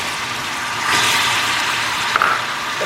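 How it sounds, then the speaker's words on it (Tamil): Water poured into hot caramel in a stainless steel pan for a Christmas plum cake, a sudden loud hissing sizzle that bursts in and holds steady, with a brief sharper spurt near the end. "ஸோ இந்த டைமில் நம்ம தண்ணியை ஊற்றிடலாம்."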